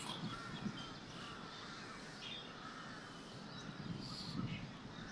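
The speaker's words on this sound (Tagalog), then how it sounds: "Puro huni ng mga uwak." Crows caw repeatedly at a distance in Lumpini Park, Bangkok, harsh calls rising over a steady low outdoor rumble.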